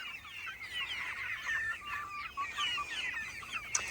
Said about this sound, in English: Chickens don't want to miss their breakfast.